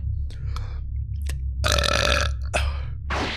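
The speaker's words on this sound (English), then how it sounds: "Here comes the burp." A loud, drawn-out burp erupts mid-stretch, surrounded by brief clicks and bursts from a Pokémon Nuzlocke game session.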